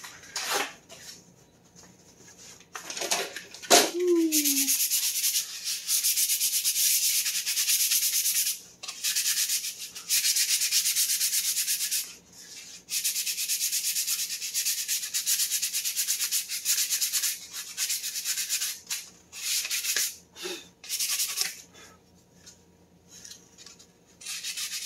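Sandpaper is rubbed by hand across a 3D-printed part in repeated bursts of gritty scraping, close and fairly loud, separated by short pauses with a few small knocks.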